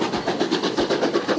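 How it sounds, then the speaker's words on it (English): A steam locomotive in motion, beating out a steady rhythmic chuff with about seven evenly spaced pulses across a short stretch, fairly close and continuous, with no voices. "This train will speed up shortly, and when you hear the engine in motion, it's got such a rhythmic beat"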